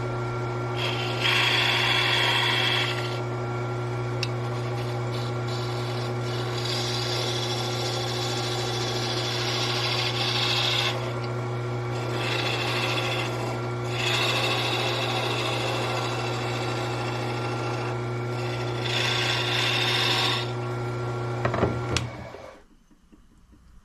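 A wooden pear spinning on a wood lathe while a turning chisel cuts it, with a constant motor hum and bursts of bright scraping hiss as the tool bites, then the machine winds down at the end.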